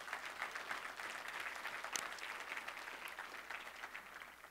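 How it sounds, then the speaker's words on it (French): A church congregation in Laval applauds, a sustained wash of many hands clapping that sounds faint and somewhat distant. "Laval va vous applaudir ensuite."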